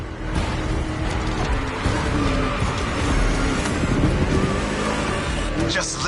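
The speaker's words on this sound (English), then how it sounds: "Just listen to that V8" A V8 engine races in The Crew Motofest video game, a dense, rumbling, growling drone holding steady over several seconds with faint mechanical rattles layered in.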